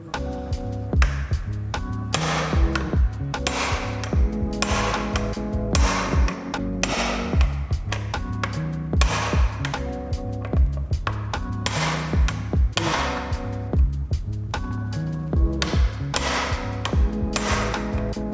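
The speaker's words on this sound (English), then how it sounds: "I'll take a regular hammer and see if it comes out" Rapid metallic tapping and clanking repeats steadily throughout, a regular hammer striking a screwdriver, with dense mechanical rattling and no speech.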